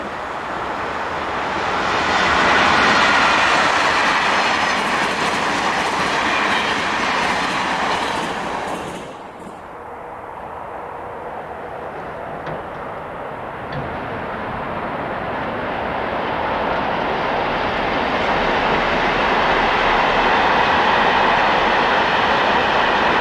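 A Class 11 dual-voltage electric locomotive and train pass a railway junction, a loud, steady rumble and rush of wheels on track that dips briefly midway and then builds again, close by with no voices.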